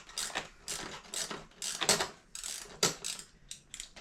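Ratchet clicking in irregular bursts of sharp metallic ticks while foot pegs are installed on a Yamaha WR250R motorcycle, close and fairly quiet, with no talk.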